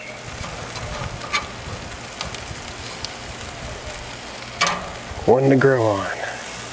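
Smoked Korean BBQ chicken wings sizzle directly over hot coals on a grill, giving off a steady crackling, frying hiss with occasional pops while a voice speaks briefly near the end.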